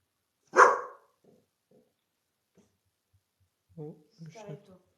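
A dog indoors lets out one loud, sharp bark, followed by a few faint knocks and then a short stretch of a person talking nearby.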